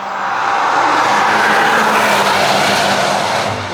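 A McLaren sports car roars past at speed on a road where prototypes are being driven, its engine a loud, steady broadband rush that swells and holds for several seconds with no talk over it.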